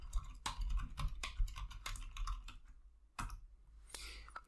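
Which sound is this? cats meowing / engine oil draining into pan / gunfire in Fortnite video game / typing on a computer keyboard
typing on a computer keyboard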